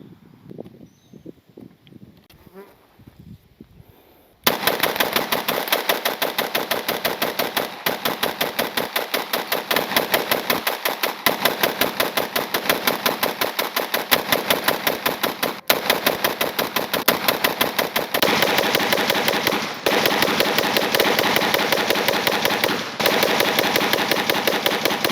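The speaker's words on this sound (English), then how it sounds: "I went ahead and got into the burn down, which is 500 rounds as quickly as possible" Sustained rapid automatic-style gunfire from a Tinck Arms Perun rifle during a 500-round burn down, loud and dense for about twenty seconds after a quiet start, with brief gaps at magazine changes.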